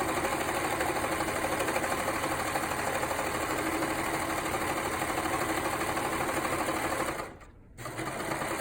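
A serger stitching along the edge of a pillowcase, a fast, even mechanical whir running steadily up close, briefly cutting out near the end before starting again; nobody speaks.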